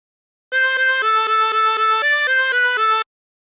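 Tremolo harmonica plays a short phrase of She'll Be Coming Around The Mountain, about nine clear, evenly paced reedy notes, loud and close with no talking.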